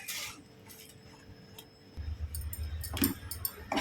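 Milk custard stirred in a pan, a spoon scraping and tapping faintly, then a louder low simmering bubble joining from midway, with a few sharper clinks of utensil against metal near the end.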